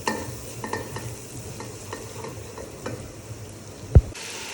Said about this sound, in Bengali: এখন মশলাটাকে একটু ভালোভাবে কষিয়ে নেব।